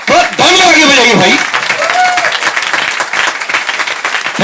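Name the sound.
audience applause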